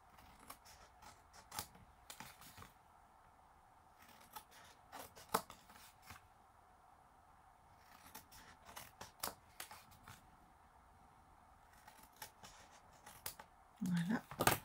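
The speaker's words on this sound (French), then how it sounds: "On coupe les petits angles." Scissors snip small corners off paper for a scrapbook photo album, heard as short, crisp cuts in irregular bursts, fairly quiet and close, with soft paper handling between them and a louder rustle at the end.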